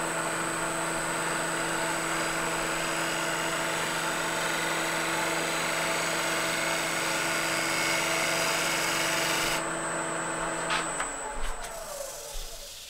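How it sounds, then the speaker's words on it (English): A fluteless gouge makes a bevel-rubbing cut on wood spinning on a lathe, giving a steady, loud whirring hum that stops abruptly near the end as the tool lifts away. "Starting from the outside, high shear angle. This is a bevel rubbing cut."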